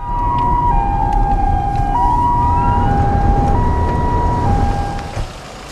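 An ambulance speeds along with its siren wailing loudly and steadily, the pitch sweeping up and down in a continuous two-tone cycle over road noise, with no voices.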